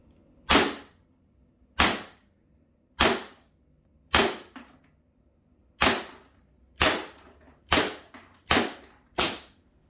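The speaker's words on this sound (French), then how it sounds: "Et maintenant le Gamo PT85." Gamo PT85 4-joule airgun firing 4.5mm pellets: nine sharp, loud cracks spaced roughly a second apart, each with a short decay and no talking between them.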